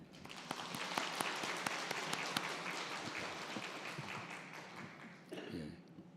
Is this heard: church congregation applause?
yes